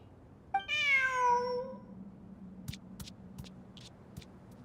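A cat meows once, a long, rising and falling cry heard clearly and up close, in the fantasy video game Genshin Impact. A low steady hum and a few sharp clicks follow, with no talking.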